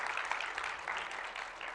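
Brief, fairly faint audience applause after a game presentation, a short even patter of clapping hands lasting under two seconds.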